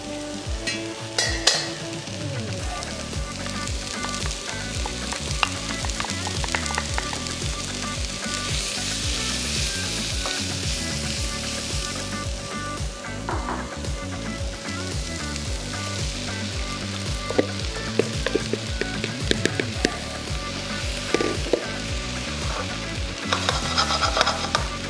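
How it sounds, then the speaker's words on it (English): Sliced white onions and mushrooms sauté in a pan for creamy mushroom soup, a steady close sizzle and fry running throughout with intermittent stirring scrapes and utensil clinks, no voices. "We're then going to add the sliced white onions in. And we're going to saute these for about 4 to 5 minutes,"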